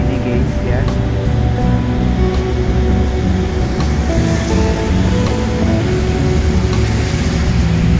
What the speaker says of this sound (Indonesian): Ini saat hujan ya.